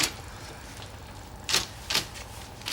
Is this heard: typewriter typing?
yes